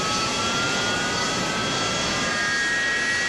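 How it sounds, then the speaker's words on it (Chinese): A DC-10 airliner's jet engine runs in a steady, even roar with a faint high whine threaded through it, continuous and unbroken throughout. "机长随后下令重新启动3号发动机"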